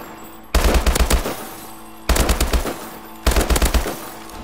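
Three separate bursts of rapid automatic fire from a weapon in Call of Duty: Advanced Warfare, each a close, loud string of about six shots at a steady, moderate rate, with short silences between bursts.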